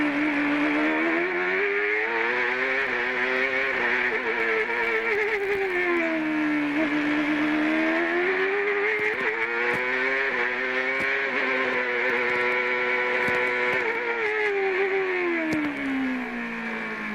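A CART race car engine in the 2002 season, recorded from the onboard camera, screams loudly and steadily, its pitch rising and falling through gear changes and throttle lifts, with no voices.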